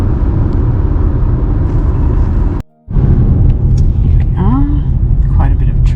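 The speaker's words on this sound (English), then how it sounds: "Quite a bit of traffic." Heavy road traffic on the Pacific Highway, heard from inside a moving car as a constant loud rumble and road roar, briefly cutting out, with a voice speaking over it near the end.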